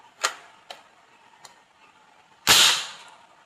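An M4A1 gel blaster converted into a PVC toy gun dry-fires with no ammo loaded, giving a few light mechanical clicks followed by one loud, sharp snap with a brief burst, close up and with no talking.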